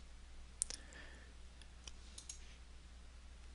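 A computer mouse clicks a few times while windows are placed in 3D design software, sharp faint clicks spaced irregularly over a quiet background.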